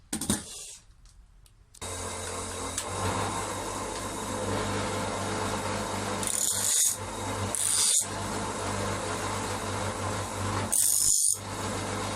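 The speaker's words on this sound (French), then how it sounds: "Il suffit de légèrement meuler le tour." A small rotary grinding tool lightly grinding a chainsaw chain during sharpening, a steady high whine running throughout with a few brief bursts of harsher grinding contact.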